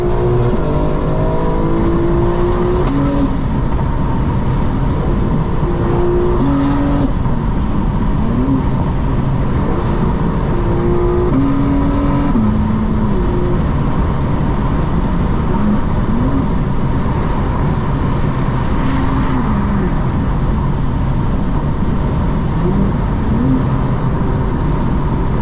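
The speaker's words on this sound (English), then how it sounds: "Rev limiter in this car" A 2025 BMW M4 Competition xDrive under hard acceleration, its engine roaring loud and close as it climbs through rising revs, with repeated upshifts and brief pitch drops running steadily throughout.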